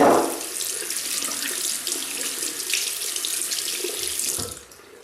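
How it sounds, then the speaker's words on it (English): Tap water runs steadily into a sink, rinsing a shaving soap puck, with a loud continuous splash that stops abruptly near the end. "Let me just rinse it out. And I rinse the puck."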